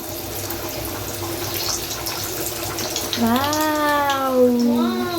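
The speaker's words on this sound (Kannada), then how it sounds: "ಎಣ್ಣೆ ಕಾದಿದೆ, ಗೋಬಿ ಬಿಡ್ತಾ ಇದ್ದೀವಿ" Cauliflower (gobi) pieces fry in hot oil with a steady, loud, close hiss, and a voice calls out in a drawn-out, wavering tone over the sizzle in the second half.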